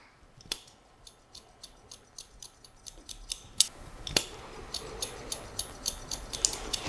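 Scissors snip steadily through hair during a men's haircut, worked from the centre toward the left side, giving a regular run of sharp, close metallic clicks, quiet and alone with no talking.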